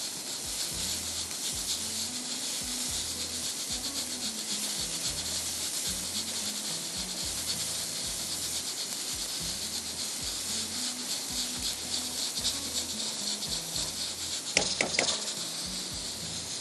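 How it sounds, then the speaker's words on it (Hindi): Onions soften in a hot pan, a steady low sizzle and hiss running throughout, with a faint rhythmic scraping pattern underneath and a brief clatter near the end. "थोड़ा सा हम प्याज को सॉटे करेंगे, सॉफ्ट करना है, ब्राउन नहीं करना है।"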